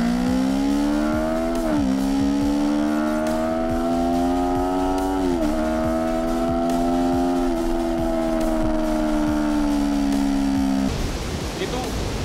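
A first-generation Yamaha MT-25 motorcycle engine revs hard under acceleration, pitch climbing steadily through the gears with short dips at each shift, loud and close, then cutting off near the end.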